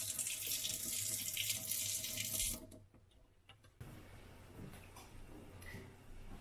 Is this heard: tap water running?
yes